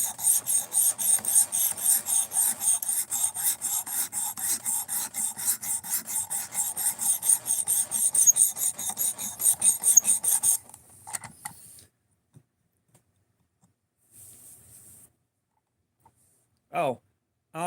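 A knife blade is sharpened freehand in steady, rhythmic rasping strokes that run for about ten seconds, then stop, leaving near silence with a few faint scrapes.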